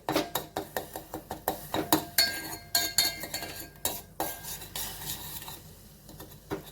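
A spoon scrapes and clinks against a metal pan while stirring a pumpkin and jaggery mixture, giving a steady run of sharp close taps with no talking.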